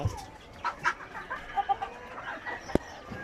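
Fighting roosters kept on a farm cluck in short, scattered bursts at close range against a quiet background, with one sharp knock partway through.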